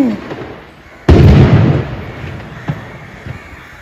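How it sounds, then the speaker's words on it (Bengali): A single loud firecracker bang bursts out suddenly during Victory Day, followed by a rumbling echo and a couple of fainter pops further off. "বোমা অনেক জোরে জোরে বোমা ফুটতেছে"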